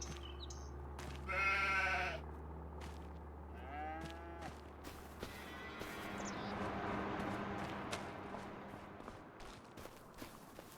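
Several sheep bleats and cow moos in Farming Simulator 25 ring out one after another, some long and wavering, over a low steady hum with scattered clicks.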